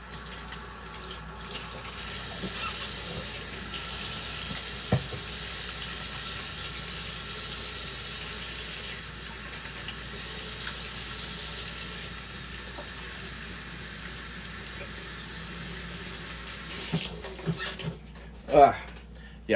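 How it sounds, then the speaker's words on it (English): Hands are rinsed under a running tap, making a faint, steady hiss of flowing water with a few soft knocks and splashes near the end. "I'm just gonna give my hands a quick wash"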